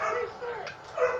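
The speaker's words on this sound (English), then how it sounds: "Sorry if you hear the dogs barking in the background" Dogs barking in the background, a few muffled, moderately distant yips and barks heard briefly over steady room noise.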